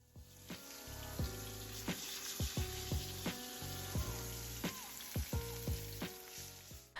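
A steak sears in a hot pan, giving a steady close sizzle and crackle that runs through the whole stretch. Louder spits and pops break in every second or so.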